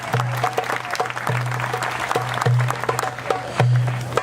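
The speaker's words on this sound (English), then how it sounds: "So give him a round of applause." Applause from a crowd at an Earth Day puppetry show, steady and fairly loud, with sharp clapping transients throughout and a low hum underneath.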